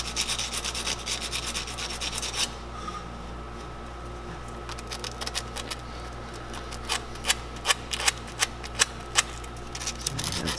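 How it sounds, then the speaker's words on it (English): Sandpaper rubs rust off a metal part being prepared for a multimeter reading, a faint steady scratchy rasp that gives way to a run of sharper, louder strokes and clicks near the end, close and without talk. "So take a little sandpaper to it, clean off some of the rust."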